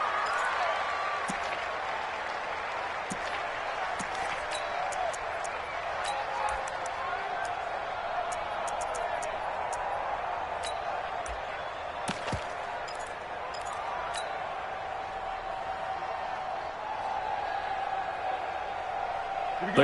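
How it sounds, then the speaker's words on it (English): A stadium crowd roars in a domed stadium during a football game near the goal line. The roar is a constant, moderately loud wash with occasional sharp knocks. "The crowd here in the Dome making things difficult."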